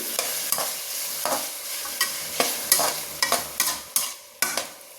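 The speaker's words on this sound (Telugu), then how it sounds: "మొత్తం మంచిగా కలిపెట్టాం కదా" A spatula stirs potato fry with salt and turmeric in a pan, giving repeated scraping strokes in an uneven rhythm over a light, steady sizzle, close and without talk.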